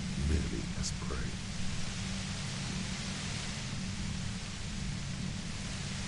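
Steady white noise static from the Disco Elysium video game hisses evenly throughout at a constant level, with a low rumbling undertone and a faint brief tone near the start.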